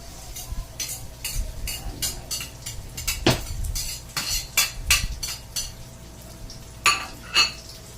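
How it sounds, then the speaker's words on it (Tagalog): Garlic and onion are sautéed in a pan while a metal utensil clatters and scrapes against it in uneven clinks, over a faint low sizzle. "Igigisa ko muna yung bawang sibuyas."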